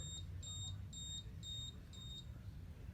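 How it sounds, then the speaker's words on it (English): Five evenly spaced high-pitched electronic beeps from a Revo 2.0 HD mobility scooter's neutral warning repeat about twice a second over a low steady hum, with faint talk in the background. "So when it beeps like that, that's an indicator telling you, hey, check this."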